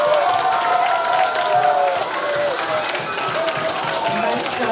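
An audience in a school hall gives a kindergarten performance a round of applause, a steady wash of clapping with crowd murmur, fairly loud and continuous.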